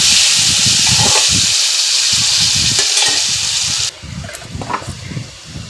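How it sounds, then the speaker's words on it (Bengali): Potato pieces frying in hot oil in a pan, a loud, close, continuous sizzle and hiss that drops sharply in intensity partway through as the oil settles, with occasional stirring sounds; no talking. "এবার আমি আলুগুলো দিয়ে দিলাম, দিয়ে আমি ভালো করে আলুটাকে ভেজে নেব।"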